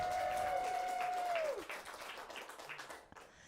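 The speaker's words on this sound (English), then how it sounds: "Give him a round of applause." Crowd applause at a comedy stand-up show, clapping already underway as a sustained tone fades out, then thinning into scattered claps that trail off toward the end.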